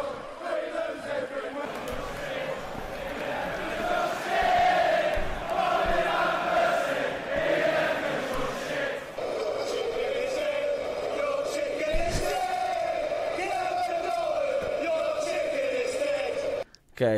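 English football fans chanting in a stadium: a massed crowd of voices carries a wavering chant that swells and fades, heard fairly faint and distant over general crowd noise.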